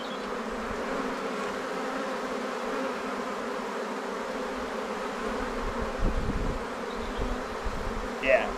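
Honeybees in an open hive box give a steady, close, dense buzz throughout, with a few soft handling knocks near the end.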